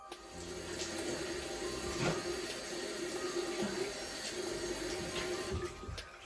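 Tap water runs steadily from a faucet into a sink while a cinnamon, honey and milk face mask is rinsed off, a continuous close splashing stream with small shifts in flow and no talking.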